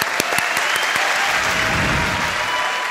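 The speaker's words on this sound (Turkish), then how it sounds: "Alkışlar." Studio audience applauds warmly for a singer on a music show, a steady dense wash of clapping with a few sharper individual claps near the start, filling the whole moment.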